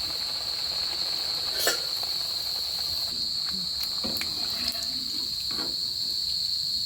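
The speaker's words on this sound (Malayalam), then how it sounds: "ഇനി നമുക്ക് ചൂടായ എണ്ണയിലേക്ക് ഇട്ട് കൊടുക്കാം" Tapioca and pappadam vada fritters frying in hot oil give a steady, close sizzling hiss, broken by a few sharper crackles and pops. No one talks over it.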